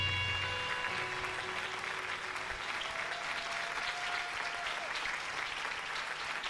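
Steady applause from a theater audience at a music show fills the space, with a faint sustained tone drifting beneath the clapping.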